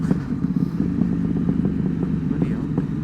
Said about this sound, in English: Bloody hell, my exhaust is so loud.